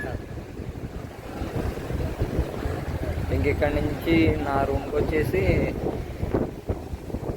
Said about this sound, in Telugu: సముద్రం పక్కన గాలి బాగా